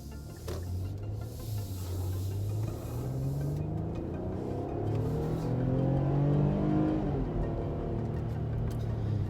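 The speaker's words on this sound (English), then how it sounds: "We're gonna go ahead and do an acceleration." A 2022 Infiniti QX60 Autograph SUV with a V6 engine accelerates from inside the cabin, its engine note rising steadily through the gears with brief dips at the shifts, under constant road and wind noise.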